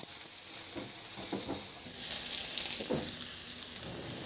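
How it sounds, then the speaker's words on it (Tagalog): Garlic and onion sauté in a kawali with a steady hiss of frying, punctuated by soft spatula scrapes and stirring thumps. "igisa ko na rin yung bawang. Igisa ko na rin yung sibuyas."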